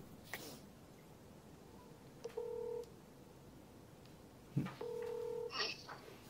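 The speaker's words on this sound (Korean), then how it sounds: "제가 조재희 후보에게 전화를 한번 해 보겠습니다" A telephone dials out for a live radio call to an election candidate, giving two clear tone bursts with clicks between them over a quiet line hiss, with no one speaking.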